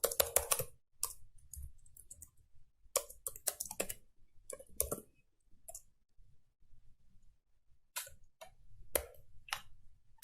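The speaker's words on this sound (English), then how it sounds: "simply type in another option" Computer keyboard typing in irregular bursts of close, crisp key clicks with short pauses between runs, no talking over it.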